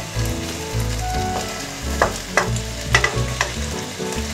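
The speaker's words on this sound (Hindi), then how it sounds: "टमाटर के बाद इसमें कटी हुई हरी मिर्चें डाल रहे हैं।" Chopped tomatoes and green chillies fry in a pan with a steady close sizzle, broken by several sharp stirring scrapes and clacks near the middle, no voices.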